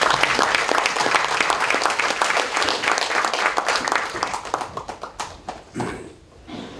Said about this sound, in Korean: 큰 박수를 보내주시기 바랍니다